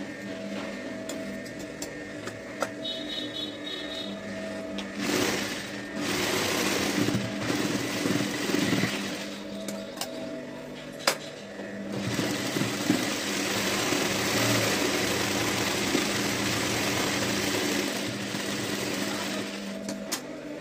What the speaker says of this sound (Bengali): এবার এই মার্জিনটা ধরে আমি সেলাই দিয়ে দেবো